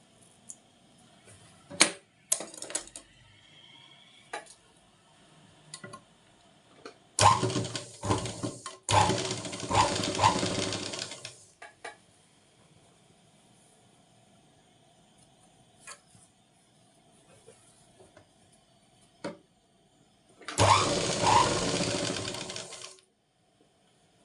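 A sewing machine stitches a blouse sleeve in a few separate bursts of running, with quiet gaps and small clicks and handling sounds between them.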